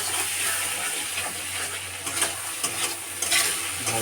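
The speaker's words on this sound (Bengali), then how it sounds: "মশলা কষানো হচ্ছে।" Spices sizzle in a pan with potatoes and eggplant for a hilsa fish curry, with a spoon scraping and stirring in uneven strokes over the continuous frying hiss, close and fairly loud with no voices.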